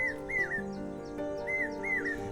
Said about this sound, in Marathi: तर मंडळी हे बघा हा पक्षी ओरडतोय